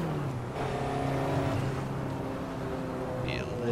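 A Ferrari 288 GTO engine hums steadily at cruising revs in Assetto Corsa, a smooth sustained drone with shifting pitch heard from inside the car, with someone talking over it.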